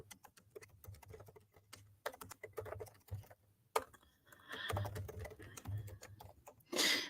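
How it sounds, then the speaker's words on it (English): Typing on a computer keyboard, a close, quiet patter of irregular key clicks in short bursts with brief pauses, faint background noise beneath. "type that up real quick"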